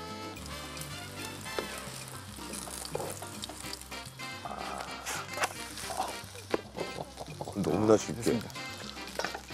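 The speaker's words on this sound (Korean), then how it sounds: "자, 썰어둔 가진 채소와 마가목 순까지 넣어주고요. 이제 소리가 이제 촥 올리면" A batter of shiitake powder, chopped vegetables and rowan shoots sizzles steadily as it fries in a pan for a Japanese-style mung bean pancake, with stirring and clatter and a person talking over it.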